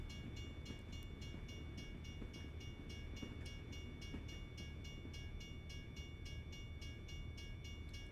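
Railcars roll past in the American Truck Simulator driving game with a continuous heavy rumble and a steady, evenly spaced clatter of wheels, close and alone with no voices.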